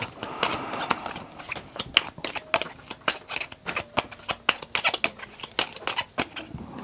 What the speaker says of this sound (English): Can you take the blue cards and shuffle them up?